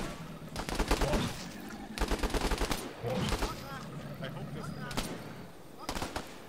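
Bursts of automatic gunfire in the military shooter ArmA 3, several loud rapid volleys with single shots between, mixed with shouted talk from players over the fighting.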